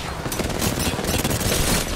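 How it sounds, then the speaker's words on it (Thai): Gunfire outside in a competitive shooter video game, dense rapid bursts of automatic and single shots crackling continuously and loudly throughout. "มันยิงกันข้างนอก"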